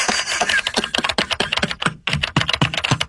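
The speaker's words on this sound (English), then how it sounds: "you're typing fast, Hawk." Fast typing on a computer keyboard, a dense, rapid stream of close clicking keystrokes with a brief pause midway, loud and continuous with no speech.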